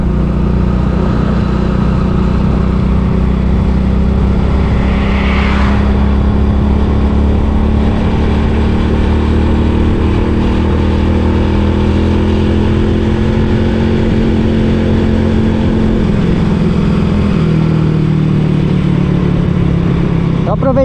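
Honda Biz 100 motorcycle with a smoking engine riding along a road, the engine droning steadily and loudly under heavy wind rush throughout, with no break in the noise.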